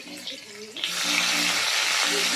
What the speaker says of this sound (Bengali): এগুলো হলো মাছ ভাজা।